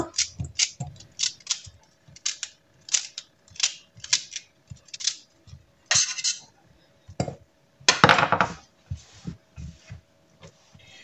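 Crisp, rhythmic chopping of celery stalks into small pieces with a knife on a board, sharp repeated cuts in short bursts, close and clear with no talking.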